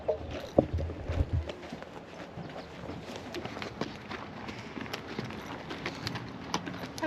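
Hooves of a brown horse clip-clop in a loose, uneven rhythm during a trail ride near Jackson Hole, the footfalls faint and close among light outdoor background noise.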